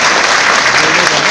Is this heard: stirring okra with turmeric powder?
no